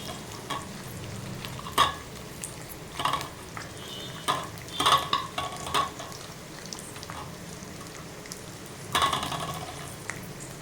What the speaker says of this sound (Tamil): நல்லா வதக்கணும் மிளகாய்